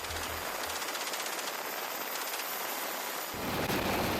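A door gunner fires a machine gun from a Bell UH-1Y helicopter during a military training exercise, a dense, rapid crackle of gunfire over the steady roar of the aircraft.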